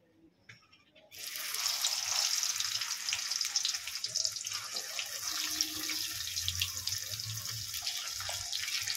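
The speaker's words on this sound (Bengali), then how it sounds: "তেলেতে পটলগুলো ভেজে নেব।" Pieces of pointed gourd (potol) hit hot oil over a medium gas flame and start frying, giving a sudden, steady crackling sizzle that carries on close and even after a quiet start.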